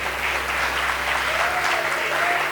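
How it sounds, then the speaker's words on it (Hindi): Audience at an award event claps for a student receiving a prize for his 10th exam result, a dense, even burst of applause filling the short span without speech. "एक बार इसके लिए तालियां बजाओ"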